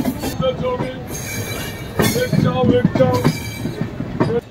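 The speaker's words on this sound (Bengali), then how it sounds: "অ্যাট লাস্ট 9:45 ছাড়লো আমাদের ট্রেন দীঘার উদ্দেশ্যে হাওড়া থেকে" The Tamralipta Express from Howrah to Digha rumbles along the rails with rhythmic clacking, metallic squeals, and clattering carriages, loud and close, with faint voices mixed in.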